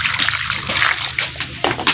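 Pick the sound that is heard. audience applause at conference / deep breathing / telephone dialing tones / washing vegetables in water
washing vegetables in water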